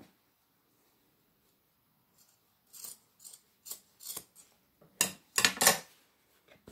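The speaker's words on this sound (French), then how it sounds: "je coupe les fils qui restent" Scissors snip leftover threads on a fabric bookmark, a series of crisp close cuts, quiet at first, then louder and quicker toward the end, with no talking.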